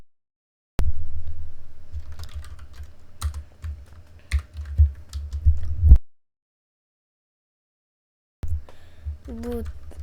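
Someone types script code on a computer keyboard in Roblox Studio, producing scattered, close key clicks over a low hum, with a stretch of silence before the tapping resumes.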